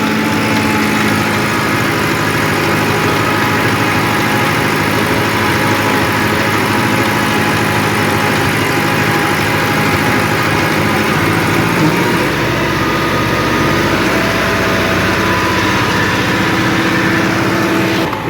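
An ATS 290 blue tractor engine runs steadily at 1500 RPM in third gear, with a loud, continuous low diesel drone and no speech.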